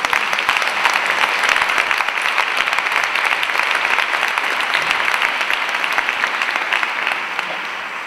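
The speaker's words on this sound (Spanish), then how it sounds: "yo les pido un aplauso para las chicas del Bilgune" Sustained audience applause for the Bilgune women fills the room at a steady, loud level, dense clapping without voices, easing slightly toward the end.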